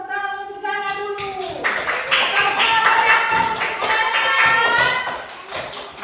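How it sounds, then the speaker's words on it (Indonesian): Students clap for a classmate named Jana in a classroom lesson; a sung or chanted voice opens before rhythmic group hand clapping builds and continues, moderately loud, with voices mixed in. "Tepuk tangan untuk Jana dulu."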